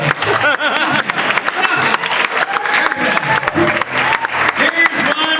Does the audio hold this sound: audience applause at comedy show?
yes